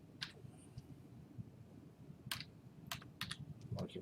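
Fingers tapping on a computer keyboard in a quiet room, a few faint, sporadic keystrokes and short clusters of clicks spread irregularly over a low background hiss.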